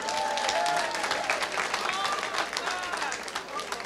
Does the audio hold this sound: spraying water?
no